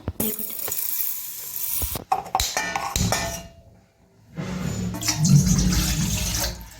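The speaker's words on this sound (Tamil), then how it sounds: "தண்ணி கொஞ்சம் போட்டு" Water pours and splashes in several bursts while cooking pearl millet payasam, with short pauses between and a few clinks of metal cookware nearby.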